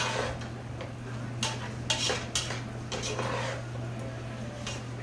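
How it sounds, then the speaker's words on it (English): A utensil stirs bacon pieces into butternut squash soup in a pot, giving soft scrapes and several light clinks against the pot over a low steady hum. "So now I'm going to kind of stir this together a little bit"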